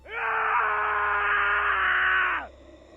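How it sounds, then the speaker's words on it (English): A single loud, sustained human scream of frustration lasts around two seconds, rising sharply, holding steady and then cutting off, in otherwise quiet surroundings. "followed by a scream of frustration."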